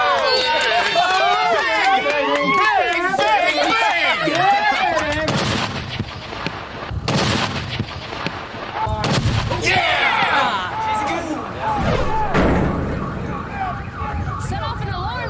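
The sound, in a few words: homemade heavy artillery cannon shot setting off an alarm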